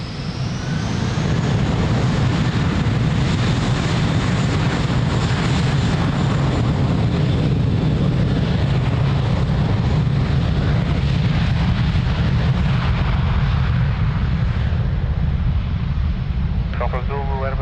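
An Airbus 321 takes off at Lisbon Airport with a loud, sustained roar of jet engines that holds steady throughout, while a radio voice talks over it.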